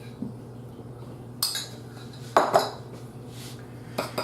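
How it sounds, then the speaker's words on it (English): A spoon stirs potato knish filling with chopped stuffed cherry peppers in a bowl, giving a few close, sharp clinks and scrapes against the dish, spaced irregularly over quiet background. "We are going to mix that"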